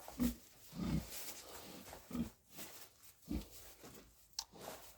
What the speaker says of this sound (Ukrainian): свинка.